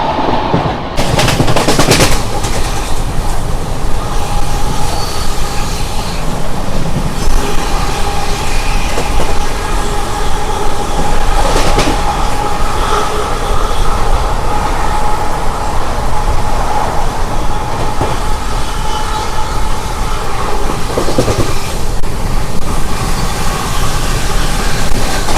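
The SMT Bengaluru weekly express thunders past close by. Its loud, continuous rattle and clickety-clack of wheels over rail joints lasts throughout, with occasional sharper clanks and no talk.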